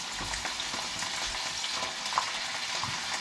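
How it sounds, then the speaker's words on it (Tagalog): Chicken wings frying in a pan of hot oil give a steady, close sizzle with crackling pops throughout, no voices over it. "Ipa-fry muna natin itong chicken wings"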